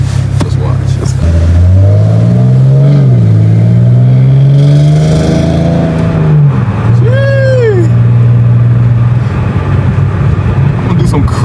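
A very loud Mustang engine drives and revs, its deep rising and falling drone dominating throughout, with a sharp whining pitch sweep near the end; a voice speaks over the engine noise.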